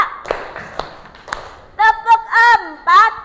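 A school class claps in a counted rhythm pattern led by a teacher, a few sharp claps first and then louder, tonal bursts that sound like children's voices chanting along.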